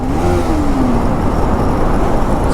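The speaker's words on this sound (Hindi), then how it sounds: "एक थ्रॉटल तो बनता है।" A motorcycle throttle is blipped while riding through the Katraj tunnel, a loud engine rev that rises in pitch over a continuous roar of wind and road noise.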